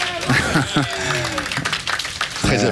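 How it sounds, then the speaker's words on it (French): Applause from an audience rises under excited French commentary at a bowling doubles semi-final after a strike, with scattered chuckles and cheers in a lively room. "Très applaudi, Mike Debourg."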